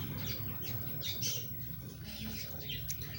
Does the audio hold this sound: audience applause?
no